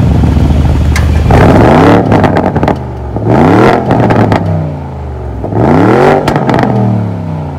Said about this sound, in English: Our customers absolutely love the sound of the sport exhaust.